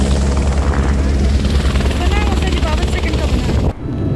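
A loud, steady helicopter rotor and engine roar fills the clip, close by in the rain on the Kedarnath pilgrimage route, with a low chopping throb, then drops off abruptly near the end.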